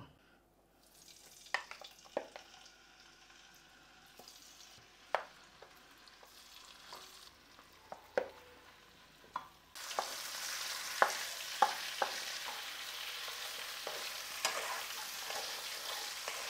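Marinated chicken leg pieces for kaju chicken frying in batches in a pan, a steady sizzle that grows louder and fuller partway through, with scattered clinks and stirring knocks from a utensil.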